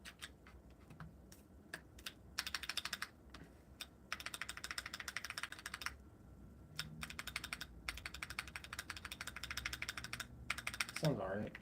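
Keys clack in fast bursts on a newly built custom mechanical keyboard with switches that are not well pre-lubed, close and crisp, stopping and restarting several times, with brief talk near the end.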